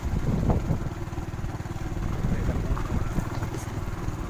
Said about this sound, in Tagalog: Motor lang ta agi sakit sa lubot.